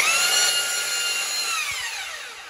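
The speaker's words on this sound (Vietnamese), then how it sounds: "Đây là khoan gỗ này." A 220V electric wood drill whines at high speed, its motor pitch sliding steadily lower as it winds down over a couple of seconds, close and loud with no talking.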